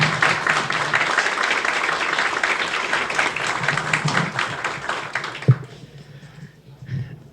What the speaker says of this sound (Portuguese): Salva de palmas aqui.